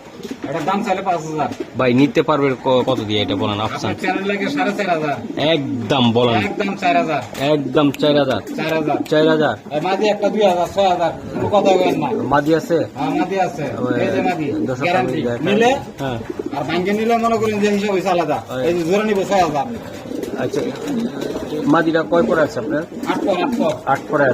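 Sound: pigeons cooing: Damascene, Budapest and racer pigeons for sale

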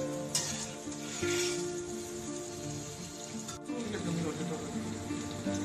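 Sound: food sizzling as it goes into the hot wok

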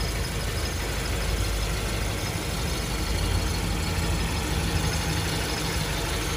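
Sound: 2011 Hyundai Avante 2.0 engine idling smoothly

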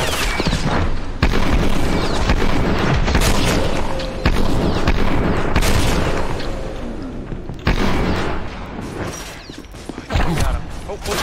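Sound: gunfire in Maximum Action video game

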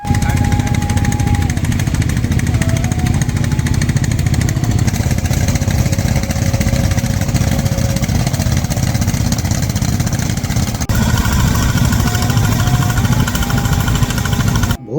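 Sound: boat engine putt-putt

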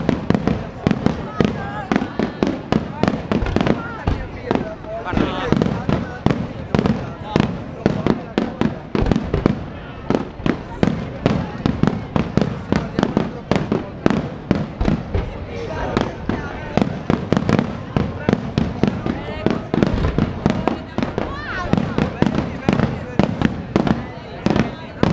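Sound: fireworks at the Redentore festival in Venice

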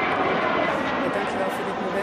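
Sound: airplanes flying over

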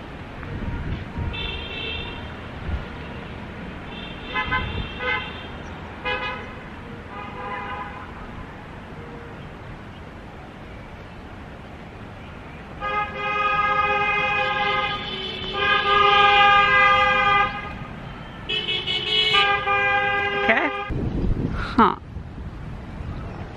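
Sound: car horns honking in traffic

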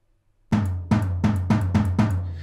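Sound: tom drum heard through room microphones

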